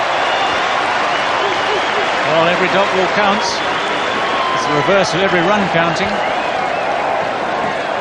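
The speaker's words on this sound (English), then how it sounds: "Listen to the crowd." A cricket crowd at Eden Park during a World Cup semi-final between Pakistan and New Zealand applauds and roars in a broad, steady wash, with a commentator speaking over it.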